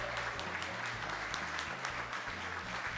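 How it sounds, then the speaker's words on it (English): Studio audience at a Packers Clubhouse Live show applauds, a continuous, fairly even patter of clapping with a low steady hum beneath, no voices standing out. "How about a big round of applause?"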